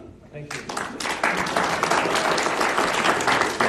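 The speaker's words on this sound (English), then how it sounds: "if you could please refrain from the type of clapping so we can move on" Audience members at a borough council meeting in Jim Thorpe break into loud, sustained clapping that swells after a quiet start and continues as a dense, close round of applause, with a voice briefly heard at the beginning.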